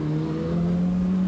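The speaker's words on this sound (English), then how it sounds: "Now you can hear the Lotus four-cylinder revving." A Lotus four-cylinder race car engine revs hard at a 1997 BRDC GT race at Croft, a brief, steady, loud, high-pitched drone with no pause.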